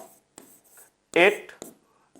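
A teacher writes on a board during a maths lecture, with short scratchy marker or chalk strokes and one louder burst of writing between soft pauses.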